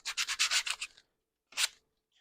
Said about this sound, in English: I gave the horn just a light sanding